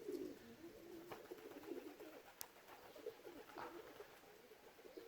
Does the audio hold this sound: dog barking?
no